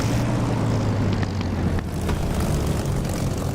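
A Spitfire's propeller engine idles before takeoff in the DCS flight simulator. It gives a steady, loud, low rumbling drone that runs throughout, with no talk.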